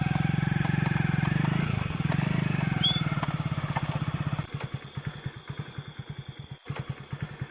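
A motorcycle engine runs close by, a steady low drone that settles into a slower, uneven idle chug. A brief higher whine sounds partway through.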